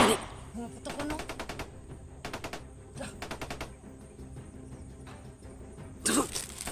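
Bursts of rapid gunfire crackle from a distance, several volleys spread across the clip with quiet gaps between them and a faint background hum.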